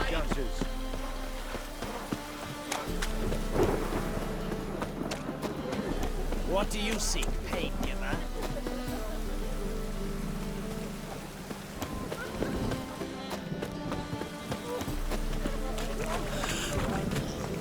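Storm rain in The Witcher 3, a steady dense patter running throughout beneath footsteps, clatter and someone speaking.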